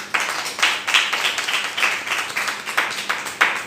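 An audience claps together in a steady, rhythmic pattern of repeated bursts, fairly close and moderately loud, with no talking.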